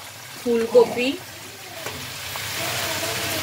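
Boiled cauliflower stalks go into a pan of frying mixed vegetables, a brief clatter and thump followed by a continuous close sizzle that builds slightly toward the end.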